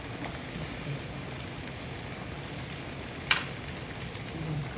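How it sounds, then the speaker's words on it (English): Food sizzles steadily in a hot pan, a continuous soft frying hiss with faint crackles and one brief clink of a utensil. "this is sauteing here"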